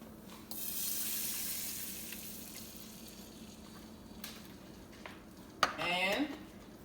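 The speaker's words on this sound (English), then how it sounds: "the next thing we're going to do is put in our cup of water" A cup of water poured into a hot pan while cooking with shrimp powder, a hissing, rushing splash that swells and then trails off, followed by a clatter of the pan and a brief voice.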